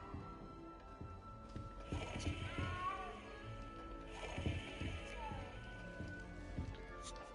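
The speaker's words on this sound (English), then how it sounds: "You don't need to be frightened, little cat." Small frightened cat meowing in the Hogwarts Legacy video game, a few mews rising over a low game soundscape with background talk and footsteps.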